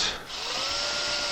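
A power drill drives an M5 by 14 bolt into the frame of an AlgoLaser DIY laser engraver kit, a steady continuous whir that runs for the whole short moment after a brief dip at the start, close and alone.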